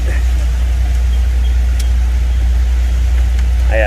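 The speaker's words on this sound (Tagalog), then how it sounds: "Okay na yung takbo ng compressor." A Mitsubishi Montero Sport idles loudly and steadily up close with the hood open and its A/C compressor engaged, a constant low rumble with a brief faint chirp near the end.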